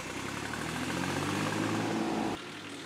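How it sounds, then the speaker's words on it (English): A 20 kW tractor powers a wood chipper, its engine holding a loud, steady drone close by that drops slightly in level near the end. "So my tractor here has a power output of about 20 kilowatt."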